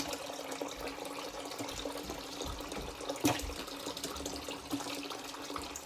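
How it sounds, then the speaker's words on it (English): Elecampane roots being rinsed in cold water in a sink, a steady faint splashing and running water with a soft clunk partway through, heard alone. "come on in and put your roots in some cold water."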